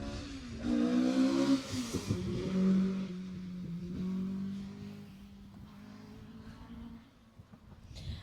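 Mark I rally car of Simon Tyso and Paul Morris at the Jersey Rally, its engine revving hard and climbing in pitch as it passes nearby, then fading and dropping away into the distance.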